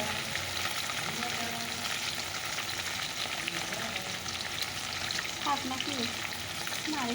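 Fish frying in a pan, a steady dense sizzle running throughout with faint stirring and occasional clinks near the end, no speech.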